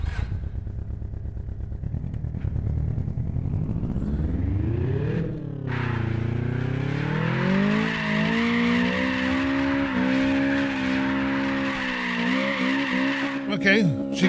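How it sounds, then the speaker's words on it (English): A rough, poorly running car in the racing game Apex Point cranks and turns over, then its engine revs and climbs in pitch as it pulls away and keeps driving with shifting engine tone and some tire noise; someone talks over it. "Okay, we're out for a drive now. Come on, please start."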